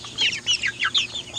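45-day-old meat chickens in a poultry house cluck and chirp in quick overlapping bursts, close and fairly loud, with no talking.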